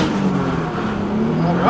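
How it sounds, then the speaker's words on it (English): A car with a slipping stage 4 clutch pulling hard, its engine note droning loud and close, rising steadily in pitch over a short, sustained burst. "you guys just witnessed my clutch slipping"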